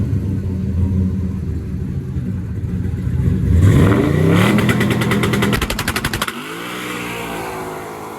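An old four-door 1956 Chevy roars off on a quarter-mile drag pass, its engine rising in pitch through hard acceleration and a gear change, loud and close, before the revs cut off and a lower rumble carries on.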